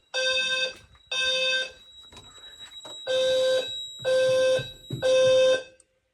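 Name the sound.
fire alarm system going into alarm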